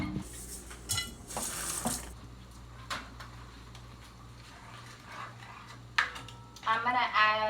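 A spoon stirring a whole can of corn in a pot, with clinking scrapes against the metal in bursts and a steady hum behind, louder knocks near the end.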